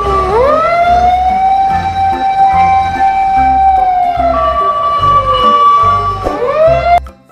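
A loud fire truck siren from a ladder truck wails continuously, its pitch rising, holding, then sliding down before climbing again, with a heavy engine rumble underneath.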